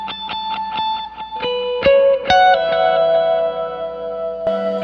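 Electric lead guitar with effects plays a melodic line: a run of quick repeated picked notes, then bends and sustained notes with chorus and echo shimmer, loud and close, no talking.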